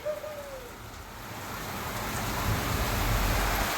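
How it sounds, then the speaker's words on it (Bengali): Heavy rain pours down during a storm with hail, steady broadband hiss that builds louder toward the end, gusty wind roaring underneath; a brief whistle-like tone near the start. "ঝোড়ো হাওয়ার সঙ্গে একদম বৃষ্টি হচ্ছে জোরে জোরে"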